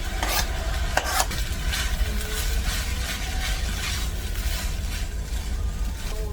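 Green onions sizzling in a pan over soy sauce rice, a dense steady frying hiss with a few sharp utensil clinks near the start.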